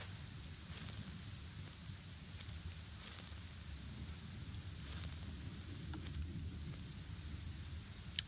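Steady rain pours down on a wet road, a dense continuous hiss with faint scattered drops, constant in level and with no voices.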